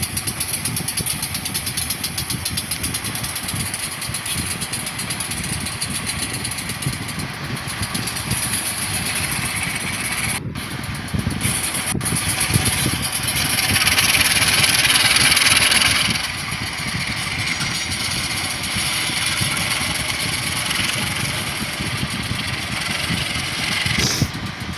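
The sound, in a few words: train locomotive engine idling in a train simulator video game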